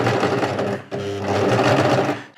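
Sewing machine stitching fabric layers for a table runner, a fast close mechanical whir that pauses briefly and then resumes steadily.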